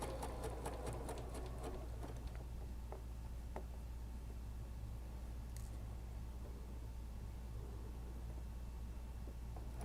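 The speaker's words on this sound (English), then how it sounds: "I'm just gonna sew right on top of the line" A sewing machine runs steadily while stitching quilt pieces along a marked line, a continuous near motor hum with a few sharp clicks and taps at the start and no talking.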